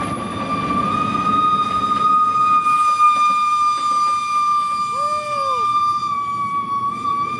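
A single long, shrill JNR Class CX50 steam locomotive whistle blast holds steady at a piercing pitch over rolling rail noise, with a brief wavering note near the end, arriving at Bang Sue.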